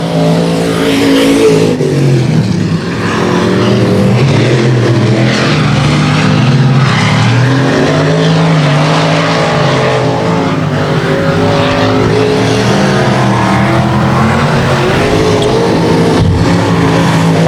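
Race cars roar around a dirt speedway, engines loud and sustained as they run hard on the high line near the cushion, with a continuous dense drone that swells and shifts as the field passes.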